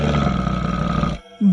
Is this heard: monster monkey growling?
yes